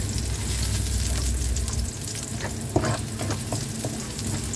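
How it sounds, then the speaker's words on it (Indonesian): Garlic and ginger stir-fry in hot oil in a pan, a steady loud sizzle with stirring clatter throughout, easing slightly after the first two seconds, with a sharp utensil knock near the end. "Kemudian aku tumis bawang putih dan juga jahenya ya teman-teman."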